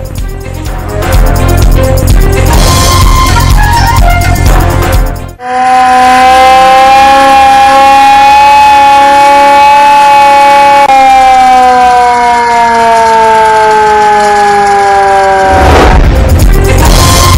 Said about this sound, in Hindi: खतरे के सायरन बज उठे